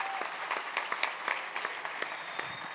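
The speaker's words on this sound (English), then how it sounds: "Please give a round of applause to Shlomi Rosenberg, even though he's not he" An audience applauds a person at a Siyum celebration held at BellWorks, New Jersey, with steady, dense clapping from many hands at moderate distance, continuing evenly throughout.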